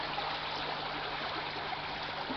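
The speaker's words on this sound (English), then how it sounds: "Quite a bit of water coming in the tank." Water pours steadily into an aquaponics fish tank, a constant close rushing trickle and splash with no break or change in level.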